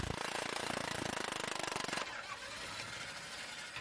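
A loud, rapid rattling hammer of an air-powered impact wrench removing a fastener on a car's suspension for about two seconds, then a steadier mechanical whir as it winds down.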